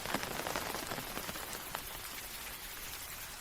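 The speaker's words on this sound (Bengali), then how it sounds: "এদিকে সুভাষ আর বিমল ঠাঁই দাঁড়িয়ে থেকে দেখছেন বাইরের বৃষ্টিগুলো।" Steady rain patters densely on a surface, a continuous even hiss with scattered drop ticks, fairly close and unbroken throughout.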